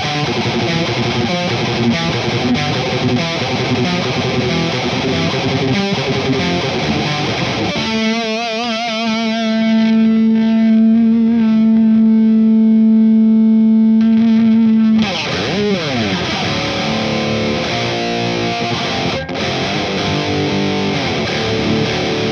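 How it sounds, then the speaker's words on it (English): Distorted electric guitar tuned toward a signature tone plays with a shimmering, wavering chorus; the middle stretch holds a sustained note with audible swirling modulation before busier playing resumes. "maybe just colour the tone enough to know that there's some sort of chorus effect"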